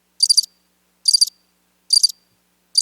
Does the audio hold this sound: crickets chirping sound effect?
yes